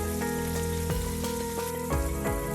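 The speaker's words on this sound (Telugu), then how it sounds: "ఈ టమాటాలను కూడా కొద్దిగా వేగనివ్వాలి" Tomatoes frying in a pan for a tangy gongura curry, giving off a steady, close sizzle with a faint tonal hum behind it.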